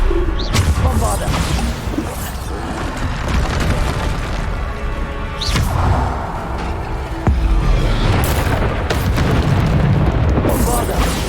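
Explosive spell blasts in the video game Hogwarts Legacy, with several loud booms and crashes bursting out amid ongoing combat effects while a player speaks throughout.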